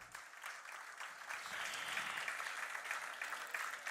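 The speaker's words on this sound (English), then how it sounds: "Applause for that." An audience at a singing competition final claps steadily, a soft, fairly distant wash of applause that swells slightly and holds.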